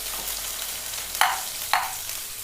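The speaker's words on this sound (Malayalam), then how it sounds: "ചെറിയ ഉള്ളി അരിഞ്ഞിട്ട് കൊടുക്കാം. നല്ല ചുവന്ന് വരട്ടെ." Chopped small onions sizzle loudly in hot oil with fenugreek, a close, continuous hiss broken by two sharp bursts of spattering as they are stirred; no one speaks.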